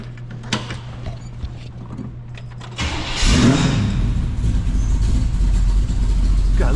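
A 1967 Camaro RS convertible with a thumper cam cranks and fires, then settles into a loud, choppy rumbling idle with a lopey rhythm, close to the listener.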